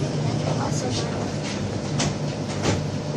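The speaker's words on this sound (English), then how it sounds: "En el metro ya vamos" A metro train ride, with a loud steady rumble of the rolling carriage and periodic rhythmic clacks from the rails, while people talk under the noise.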